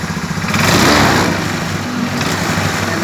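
A Honda Beat scooter engine starts and runs, a steady loud mechanical drone with a slight swell early on, heard close and without talk.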